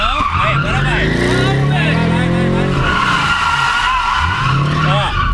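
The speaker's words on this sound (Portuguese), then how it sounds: "Mas acho que o Camaro começou a aprender a fazer drift." A Chevrolet Camaro drifts with loud continuous tire squeal and skidding, its engine revving and whining close by while people talk over the noise.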